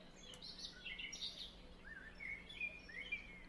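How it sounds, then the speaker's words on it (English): Birds chirp and tweet in a quiet ambient texture sample used in a drill beat, with scattered high calls trading back and forth over a faint low hum, soft and distant throughout. "I got a bird texture from a one-shot kick, and it's literally just birds"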